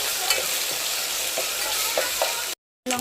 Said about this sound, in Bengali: তেলটা গরম হয়ে যাওয়ার পর এর মধ্যে পেঁয়াজ দিয়ে দিয়েছি, এর মধ্যে আদা রসুনের পেস্ট দিয়ে দিয়েছি